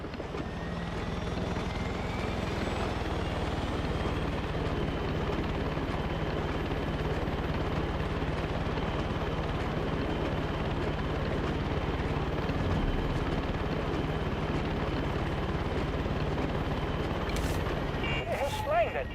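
A helicopter in the video game Far Cry 6 drones steadily throughout, a loud, constant rotor and engine rumble with a brief clatter near the end.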